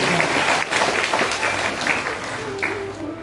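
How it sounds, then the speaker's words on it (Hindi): Loud applause from an audience at a Hindu religious discourse about temple lamps, a dense steady clapping that fills the whole stretch, with a few voices calling out underneath. "ताली बजाएंगे क्या? जोर से बजाओ।"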